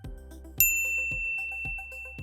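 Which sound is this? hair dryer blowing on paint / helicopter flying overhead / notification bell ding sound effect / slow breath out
notification bell ding sound effect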